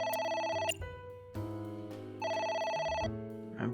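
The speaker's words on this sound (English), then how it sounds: "It's ringing again." A telephone rings in the video game AI: The Somnium Files, with two bursts of a bright, steady electronic trill split by a short gap, loud and close with no talk over it.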